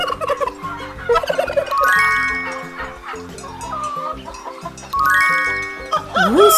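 Turkeys gobble in two loud rapid bursts of warbling, bubbling calls, with quieter clucks and shifting fowl noises in between and a sharp squawk at the end.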